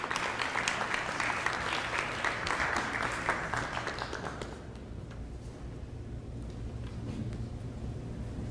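An audience applauds to welcome speaker Yasmin Mujahid at a lecture. Dense, sustained clapping fills the hall, then thins and fades after about four seconds, leaving a low room hum.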